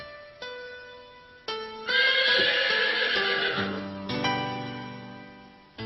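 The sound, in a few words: horse neighing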